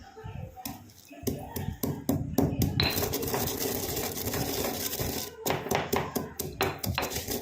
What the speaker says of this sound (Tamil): இப்போ நம்ம ஒரு இடிக்கல் ஒன்று எடுத்துக்கலாம். அதில் வந்து நம்ம எடுத்து வச்சுருக்கிறத உள்ளே போட்டு இதை நல்லா பவுடர் மாதிரி ஆக்கிக்கலாம்.